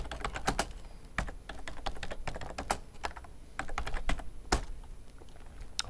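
Steady typing on a computer keyboard while writing VBA code, a close, quick run of crisp key clicks with uneven rhythm and occasional harder taps, with no talk over it.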